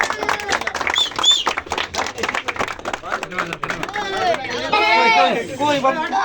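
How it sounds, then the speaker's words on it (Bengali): Crowd at a pigeon racing club's prize-result announcement in Murshidabad claps and chatters in a lively, sustained wave, with voices talking and calling out over the applause throughout. "হাততালি দাও।"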